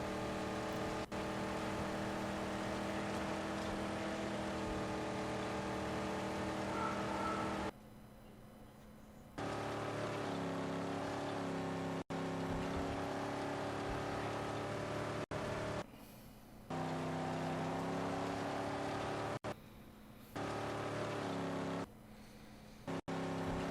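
A car engine in the Mad Max video game drones steadily with rising and falling pitch, cutting out briefly several times and returning, with no talk.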